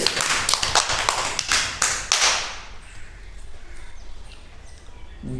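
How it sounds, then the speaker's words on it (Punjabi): A group of children claps in a classroom, a quick scattered burst of hand claps that fades out after about two seconds into a quiet room. "ਸ਼ਾਬਾਸ਼ ਤਾੜੀਆਂ ਮਾਰੋ ਸਾਰੇ ਬੱਚੇ"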